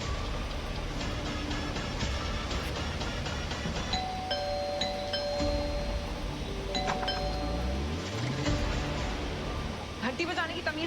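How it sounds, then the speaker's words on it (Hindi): A doorbell rings with a few chiming tones mid-scene in a Hindi TV drama, set against background music and a busy layered soundtrack. "घंटी बजाने की तमीज नहीं है।"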